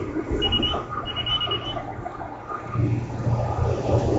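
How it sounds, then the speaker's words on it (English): Faint electronic beeps in short repeated bursts sit over a muffled, rumbly background, followed by a low steady tone later on. "If you heard a beeping, sorry."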